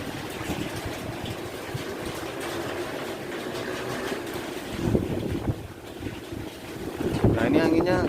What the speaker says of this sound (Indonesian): Nah ini anginnya gede banget teman-teman